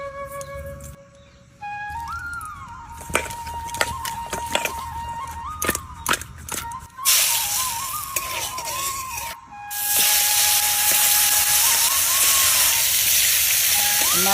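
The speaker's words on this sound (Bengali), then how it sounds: "জিরে তেজপাতা একটু ভেজে নিলাম।" Cumin seeds and bay leaves fry in hot oil in a wok, with scattered crackles at first, then a sharp hiss that swells into a loud, steady sizzle lasting to the end.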